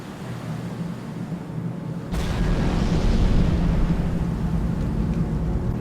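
A torpedo strikes and destroys a ship in the naval strategy game Naval War: Arctic Circle, a sudden deep rumbling explosion that swells and holds as a loud, sustained roar over a low background drone.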